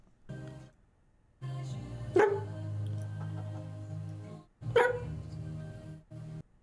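A Twitch streamer imitates a dog with his voice, giving two sharp, loud bark-like yelps among sustained growly vocal sounds, close to the microphone.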